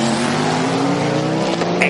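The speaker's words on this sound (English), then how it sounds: "Excellent noise as 2 very differently powered cars work their way out of La Source." A Toyota V6 hybrid prototype and a Cadillac V8 race car accelerating out of La Source hairpin at Spa-Francorchamps during a WEC six-hour race; loud, high engine tones climb steadily, with a brief tyre-squeal-like burst near the end.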